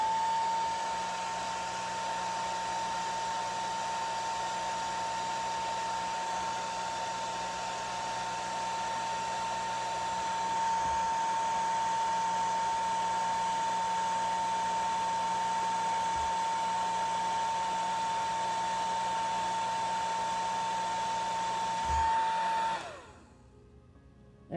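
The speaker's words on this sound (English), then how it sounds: "I can put the hairdryer on low." A hair dryer on its low setting runs steadily, a constant whirring hum with a high tonal whine, then cuts off abruptly near the end.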